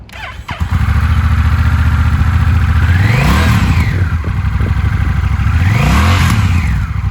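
A used 2023 Honda Rebel 1100 motorcycle with DCT automatic transmission starts and idles loud and close, then revs twice in rising and falling surges over a rumbling exhaust.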